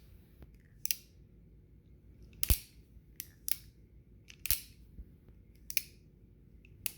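Close, crisp mechanical clicks from a heavy 1851 Colt Navy .44 caliber revolver being cocked repeatedly, arriving in short bursts of one to three snaps spread evenly across the stretch, with no talking.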